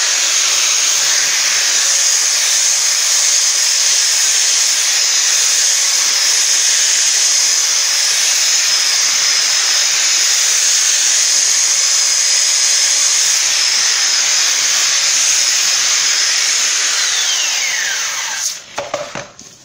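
A power sander smoothing an end-grain wooden cutting board gives a loud, steady, unbroken whine for most of the stretch, then winds down and stops near the end.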